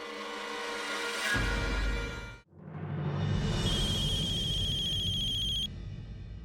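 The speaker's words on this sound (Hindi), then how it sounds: "रमाकांत, अब जरा फोन लगाइए बिंदिया ठाकुर को।" A phone rings loud and close, then pauses briefly before the electronic tone starts again and carries on steadily until the end.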